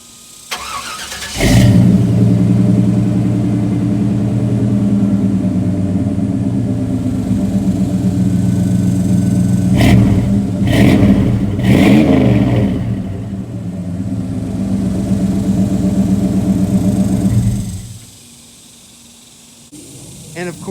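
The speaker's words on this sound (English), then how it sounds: "you've seen so many startups of this truck, but we'll get another classic just for the sake of it" A Chevrolet pickup truck fitted with a 350 Chrysler V8 cranks and fires up, settling into a loud steady idle with a couple of sharp revs midway before the engine shuts off near the end.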